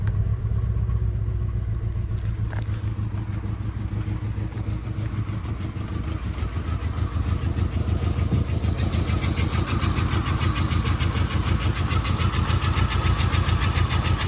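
A 1.6 petrol VW Caddy engine runs unevenly and roughly on three cylinders, with a loud, steady, slightly lumpy throb that grows a bit stronger partway through; no talking.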